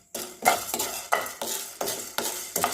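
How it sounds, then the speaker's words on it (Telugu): Coriander seeds roasting in a pan for kakarakaya podi are stirred with a spoon in a steady series of sharp scraping strokes, roughly one every third of a second, close and fairly quiet with no talking. "ధనియాలు వేసుకొని కొంచెం బాగా కలుపుకోండి."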